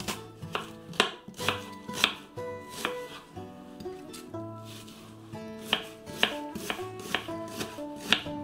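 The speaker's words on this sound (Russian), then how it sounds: "Мелко нарезаем лук." Knife chopping onion finely on a board, a steady series of sharp, close taps in quick rhythmic bursts with brief pauses, loud and clear, no voices present.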